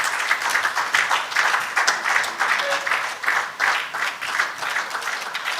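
Sustained crowd applause at a leadership event, a thick wash of many hands clapping continuously and evenly throughout.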